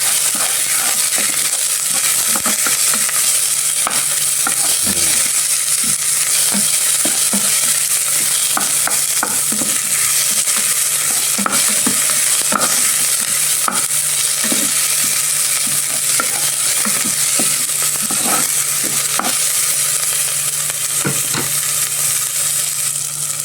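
Crushed onions sauté in a hot pan, a loud, constant sizzle with frequent scraping stirs and light clinks throughout.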